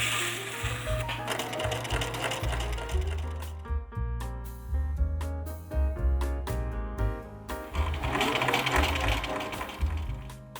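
A sewing machine stitches a sloper bodice for a gingham dress, running loud and close in continuous rattling bursts with brief pauses and changes of speed.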